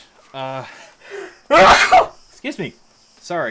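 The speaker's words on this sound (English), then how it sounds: "That was a sneeze." A single loud sneeze bursts out mid-stream, framed by a man's quiet apologetic speech just before and after it.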